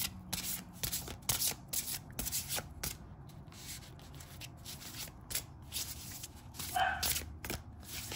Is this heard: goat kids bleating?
no